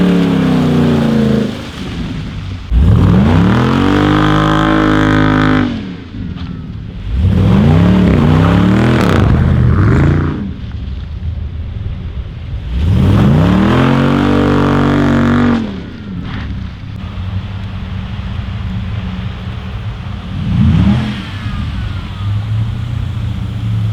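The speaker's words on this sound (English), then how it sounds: "that's gonna do it for the burnouts" Dodge Durango SRT AWD doing burnouts in snow: loud engine revving in repeated surges, each swelling to a roaring peak, then dropping back to a rumbling idle between bursts, close by with no talk.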